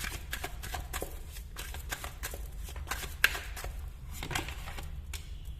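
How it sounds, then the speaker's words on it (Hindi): Tarot cards being drawn and handled during a reading, with soft papery shuffles, slides and light taps repeating irregularly at close range, one sharper snap partway through, over a low steady background hum. "मैं एक कार्ड और निकालूंगी।"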